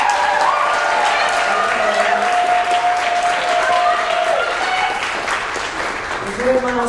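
Audience applause rising for the trumpet section at a big-band jazz concert, a steady wash of clapping held loud throughout, with sustained horn tones and a few voices underneath.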